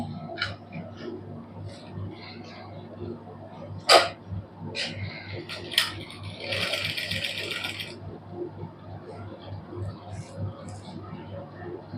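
A sewing machine stitches beaded lace onto a sleeve, with one brief whirring burst of stitching lasting about two seconds among clicks, handling noise and a voice talking.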